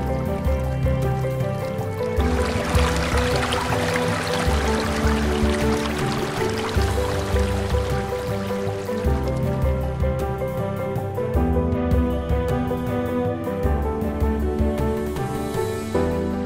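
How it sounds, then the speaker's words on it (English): Water rushes steadily through a flume at Lake Kachess, where rock pools back it up. The flow is a continuous, even wash throughout, with a musical bed playing alongside. "And now it actually is flowing through the flume."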